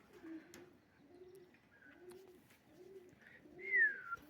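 Young Blowwinder pouter pigeons give soft, low coos in a steady repeating rhythm, about five in a row, followed by a louder, higher call near the end.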